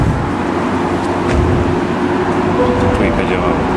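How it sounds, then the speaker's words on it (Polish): A car drives past near the gate of the Inunaki tunnel in Japan at night, a steady broadband road rumble holding level for the whole stretch with no clear peak. "Nagle słyszymy dźwięk jadącego samochodu"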